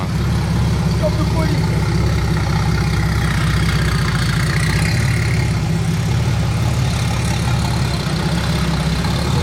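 A Porsche 964 Turbo idles at the Place du Casino in Monaco with a steady, close, low engine burble, while someone speaks over it.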